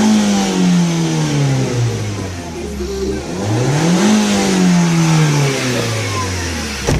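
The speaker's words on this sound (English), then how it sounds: "we rev the engine a few times to get the hydrogen out of the engine" A car engine revs repeatedly after a hydrogen carbon cleaning, loud and close, rising and falling in several sweeping surges over a steady throbbing base.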